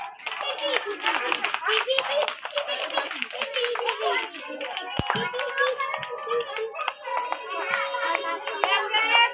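An audience claps hands at a prize announcement for first, second and third places. The clapping is lively and crackling, with children's voices chattering over it.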